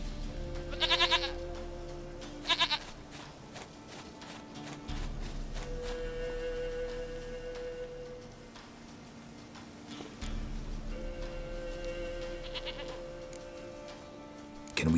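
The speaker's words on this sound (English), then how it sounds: "Goat of mine, dearest, sweetest goat." Goat bleats in The Witcher 3 video game come in short nasal bursts, two near the start and another toward the end, over steady game ambience with faint hoof-like clops and tones.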